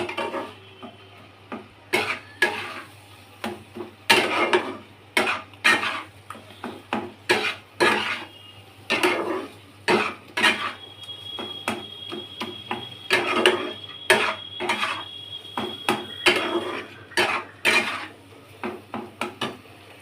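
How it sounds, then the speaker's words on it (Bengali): Loita fish is stirred in a pan until the liquid dries off, making a long run of close, rhythmic scraping and clinking knocks of a utensil against the pan, with no talk. "এটা যতক্ষণ না জলটা পুরো শুকিয়ে টেনে যাবে ততক্ষণ এটা নাড়তে হবে"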